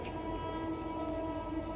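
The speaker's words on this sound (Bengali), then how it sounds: "ওই দেখো, ট্রেন যাচ্ছে।" A train passes near a house, a low steady rumble of rolling wagons heard at moderate distance with no voices.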